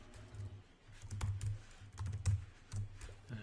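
A computer keyboard is tapped in irregular, close-up clicks and short flurries while code is being written, some strokes landing harder than others, with no voice over them.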